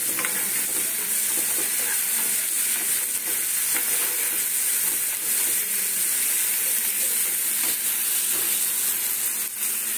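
Spices frying in a pan with a splash of water added, a steady loud sizzle and hiss with stirring that lasts throughout, no talking.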